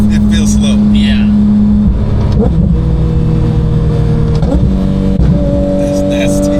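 A 2022 Porsche 911 GT3 engine roars loudly and revs up and down in pitch from inside the car, while voices talk over it.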